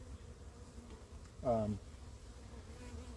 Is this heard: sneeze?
no